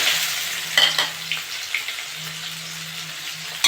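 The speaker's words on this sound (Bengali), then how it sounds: "পেঁয়াজটা একটু ভেজে নেবো।" A large sliced onion fries in hot oil with already-toasted spices in a pan, giving a steady close sizzle broken by a few scraping stirs.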